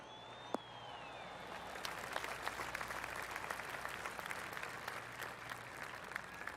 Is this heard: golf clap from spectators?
yes